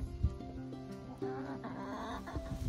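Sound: chickens clucking

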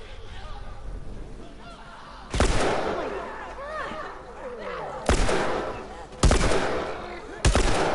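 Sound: gunfire in video game The Last of Us Part 2

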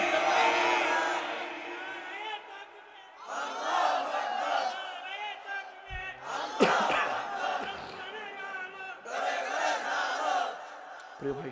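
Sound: crowd shouting Allahu Akbar in response to takbir call

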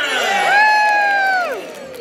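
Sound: audience of children and parents cheering

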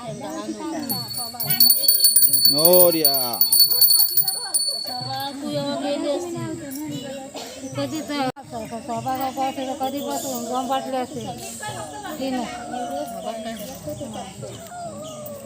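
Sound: ringing a hand bell during a Gauri puja

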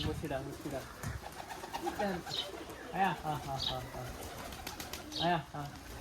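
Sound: Giribaj racing pigeons cooing and flapping

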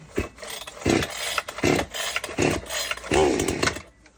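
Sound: GreenForester petrol chainsaw being pull-started

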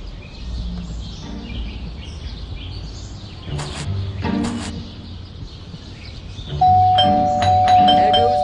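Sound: doorbell ringing in video game Scary Teacher 3D

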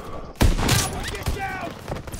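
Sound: shotgun fire in Call of Duty WWII video game

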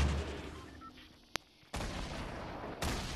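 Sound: grenade being fired in a video game

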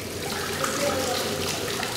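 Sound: hydrogen sulfide bath being filled with water

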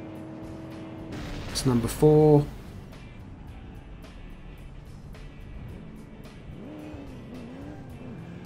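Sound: RC vehicle driving in the video game Crash Time

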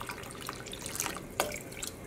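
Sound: dye being added to water in a yarn dyeing pot

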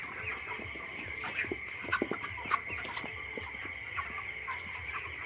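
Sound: chickens in a poultry farm

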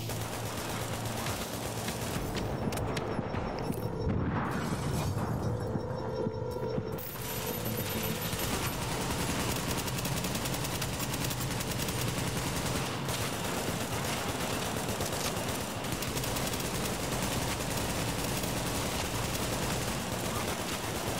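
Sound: turret gunfire in the video game The Division 2

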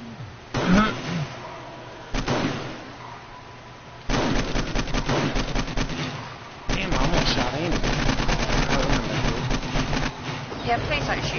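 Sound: gunfire in the video game 7 Days to Die

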